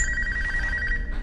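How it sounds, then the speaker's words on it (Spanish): A telephone held by Dr. Gordon rings in the horror film Saw, a continuous bright electronic trill, fairly loud and close, with no talk over it. "En ese momento el teléfono que tenía el Dr. Gordon comenzó a sonar"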